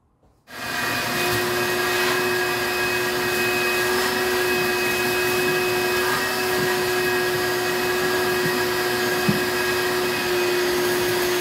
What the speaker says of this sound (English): And we're gonna vacuum this debris up.